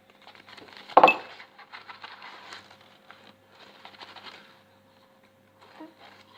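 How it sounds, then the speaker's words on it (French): A spoon stirs thick Nutella mug cake batter in a mug. One sharp clink is followed by scattered scraping and tapping in short bursts, close and fairly quiet. "On va remuer."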